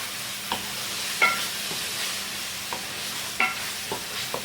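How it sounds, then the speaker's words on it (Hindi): Spices and a spoonful of black pepper being stirred and fried for white chicken karahi, with a steady background sizzle broken by scattered scraping clinks of the spoon against the pan. "थोड़ी देर आपने मसालों को भूनना है, ज़्यादा देर नहीं, 1 मिनट बहुत है"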